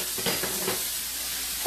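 Sausage meat fries in a skillet with a soft steady sizzle, a few faint stirring scrapes near the start, and a brief clink at the end.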